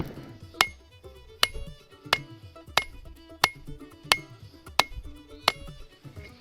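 Hammer blows ring out at a steady pace as a blacksmith forges the bit of a Viking war axe. There are about eight sharp, metallic, ringing strikes, close up, with soft clatter between them and no voices.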